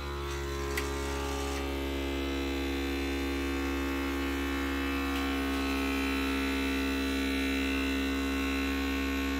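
A jar vacuum sealer's steady electric motor hum drones without a break, loud and close, with a faint click or two early on.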